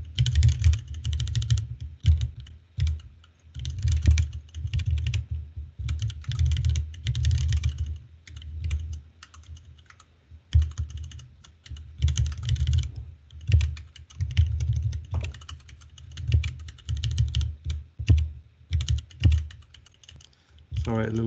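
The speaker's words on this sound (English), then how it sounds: "a little bit of typing to watch here" Typing on a computer keyboard while writing a JSON parser, with bursts of rapid, close clicking keystrokes that start and stop repeatedly, with speech at times.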